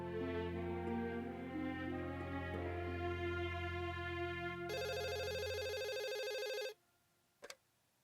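A telephone rings loudly and continuously, a buzzing electronic tone that cuts off abruptly near the end, followed by near silence and a brief click.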